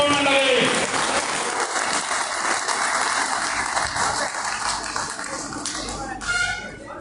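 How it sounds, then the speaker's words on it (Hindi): Audience applause at a general body meeting of an insurance field workers' association, a sustained wash of many hands clapping from start to finish, steady and fairly loud with faint room noise. "तालियों से कीजिए, जोरदार तालियों से"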